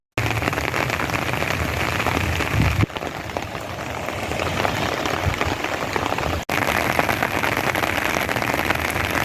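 Steady rain falls in the desert during Tropical Storm Alvin, a dense continuous patter of drops on the ground and surfaces close by, with two brief breaks in the sound.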